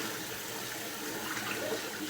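Clean hands stirring sugar and salt into about two gallons of very cold water for a turkey brine, a soft continuous sloshing and swirling of water that stays steady and close throughout.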